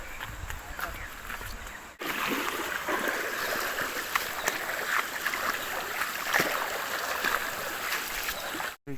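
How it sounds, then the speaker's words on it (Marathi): A swollen river in the Konkan runs full, giving a steady, close rush of flowing water that continues throughout, with brief clatters near the start and the end. "मित्रांनो तुम्ही नदीला पाणी बघू शकता"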